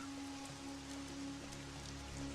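Heavy rain pours down steadily on the ground, a dense continuous hiss with scattered droplet patter and a faint low hum underneath.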